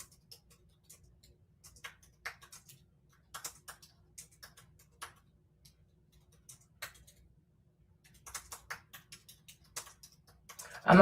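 Scattered bursts of typing on a computer keyboard, soft irregular key clicks in short clusters over a quiet low hum, ending in a louder clatter.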